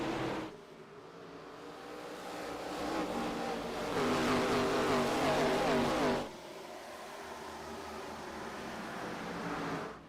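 Simulated race cars in a racing video game roar away at the green flag at New Hampshire, a dense, loud engine drone that swells to a peak and then eases to a steady sustained rumble.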